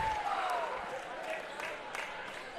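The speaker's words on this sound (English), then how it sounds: "the Eagle crowd is making their presence known" A home crowd at a Tampa vs. Embry-Riddle volleyball match cheers and applauds in a steady, sustained wash of noise that sounds somewhat distant, with a commentator talking over it.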